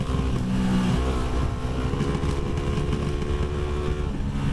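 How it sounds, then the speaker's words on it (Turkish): A Hyosung GT250R motorcycle engine with a fault roars loudly and steadily close by, held at full throttle throughout with a rough, sputtering edge and exhaust backfires. "şu an tapagaz çeviriyorum"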